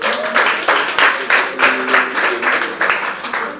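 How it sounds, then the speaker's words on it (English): An audience at a bridal masterclass claps together in sustained applause, dense and rhythmic, fairly loud and close, with a brief tonal sound under it. "Can we give Ms. Debola a round of applause?"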